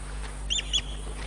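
White plover calling at a drying riverside waterhole, two short, shrill, fairly faint chirps over a steady low hum.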